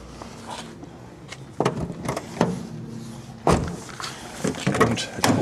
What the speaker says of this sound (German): Ja, also die Tür rastet nicht mehr sauber ein.